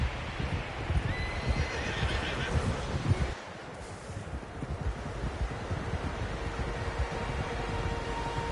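In a video game, a horse whinnies loudly while hooves clop and wind gusts across the microphone, followed by more neighing and hoofbeats over a steady windy background.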